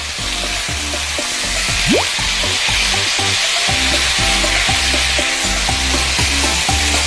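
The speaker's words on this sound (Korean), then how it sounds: "여기에다가 쇠고기 양념해 놓은 걸 넣어주시면 되는데요. 불고기 양념장 아까 했던 것도 같이 해서 넣어서 볶아주세요" Marinated beef with bulgogi sauce, onions and carrots sizzles loudly in a hot oiled pan, with a spatula scraping and stirring in a steady repeating rhythm over the continuous hiss.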